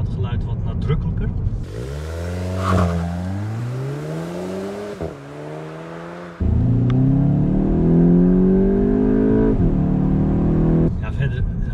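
A 2021 Volkswagen Golf GTI exhaust revs several times, rising and falling in loud close sweeps with a sharp jump in volume halfway, partly under a man's speech.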